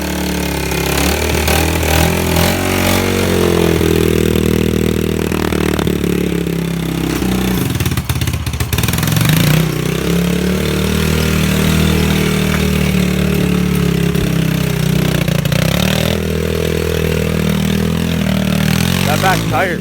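A 2011 Yamaha TTR110E dirt bike on choke runs loud and close, its engine holding a steady low throb with small rises and dips in pitch throughout, as voices talk over it.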